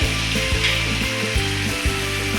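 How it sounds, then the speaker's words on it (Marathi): Cumin seeds crackle and sizzle in hot oil and butter for paneer masala, a loud close frying hiss with a tonal hum beneath and a few brief dips, with no voices. "तेल आणि बटर हे आपण यामध्ये जिरे घालून घ्यायचे आहे"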